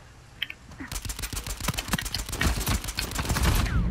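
Rapid, sustained gunfire from a shooter video game: dense bursts of shots follow a brief quiet start and keep coming loudly and close until the end.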